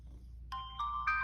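A cheap knockoff Apple Watch-style smartwatch plays its startup chime on first power-on, three bright ascending electronic tones in quick succession over a faint low hum.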